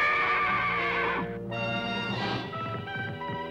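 Horses ridden at speed by a band of mounted tribe riders, with loud whinnying and neighing over a busy rush of hooves, the clatter thinning briefly midway before the neighs return.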